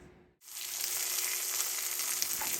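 Tennessee Pride sausage browns in a skillet with a steady, close, even sizzle that starts after a brief pause and keeps going without any talk.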